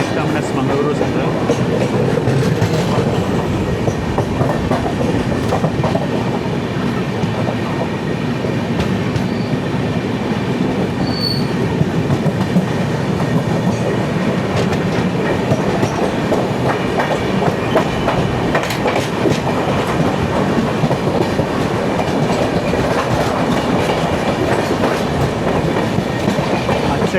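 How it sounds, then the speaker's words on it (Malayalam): The Matsyagandha Express passenger train rolls past, a loud continuous rumble with rhythmic clickety-clack of wheels over rail joints that stays steady and close for nearly half a minute. "അതാ വരുന്നു. ഈ റോഡിൻ്റെ 37864 മത്സ്യഗന്ധ express, Lokmanya Tilak terminus, Mangaluru central."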